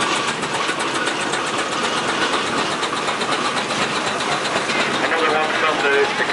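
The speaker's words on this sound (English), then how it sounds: "another Superflex compound engine of 1917, Nova Scotia, and owned by the Glynn family" A 1917 Superflex compound steam traction engine from Nova Scotia runs steadily at a show parade, its broadband mechanical chuffing and clatter continuous and fairly loud, mixed with crowd murmur and commentary.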